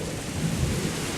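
Heavy rain pours steadily at an outdoor concert during a thunderstorm, a dense continuous roar with a low rumble underneath and no voices.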